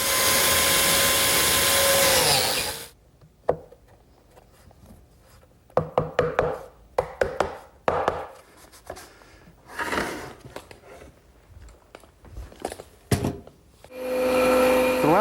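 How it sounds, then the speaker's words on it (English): A biscuit joiner whines loudly for a few seconds as it cuts a slot into a wooden side piece, then stops. Clunks and knocks of handling the wood follow before the motor spins up again at the end. "I'm going to cut a biscuit slot that'll bridge that side piece"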